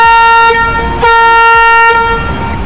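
The passenger ship Natasha sounds a loud, sustained horn blast as it departs port, a rich tonal note that swells and holds, with background engine rumble and no talk.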